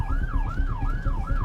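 A UK ambulance siren wails in a steady rising-and-falling cycle, loud and continuous over low engine rumble, with no talk.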